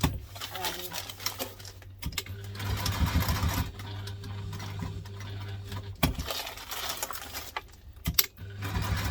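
A sewing machine runs in several bursts of rapid, rhythmic stitching as it sews through vinyl fabric for a double-compartment lunch tote. The machine is close and fairly loud, with brief pauses and light handling clatter between runs.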